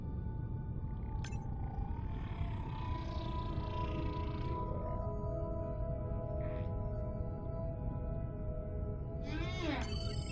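Whale calls from the underwater video game Beyond Blue: drawn-out moans, rising and falling whistles and a swooping cry near the end, heard over steady ocean rumble and hiss.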